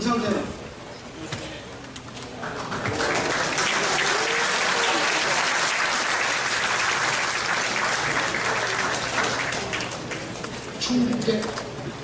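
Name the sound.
applause welcoming professors at a rally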